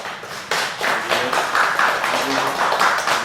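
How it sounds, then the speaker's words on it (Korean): A church congregation claps for a missionary visiting from Cambodia during a Sunday service, with a burst of hand claps that starts abruptly and keeps going unevenly, fairly close, under some low speech. "뒤를 보고 박수 한번 해주시기 바랍니다"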